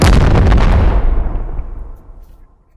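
A rocket launcher bought from the in-game shop fires in the VR game Animal Company, a loud booming blast that rolls off and fades over about two seconds.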